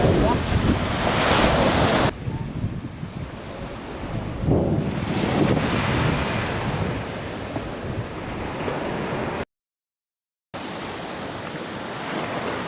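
Surf rolls and crashes onto a black volcanic sand beach in Costa Rica during the rainy season, loud and continuous with heavy wind buffeting the microphone and a brief dropout near the end.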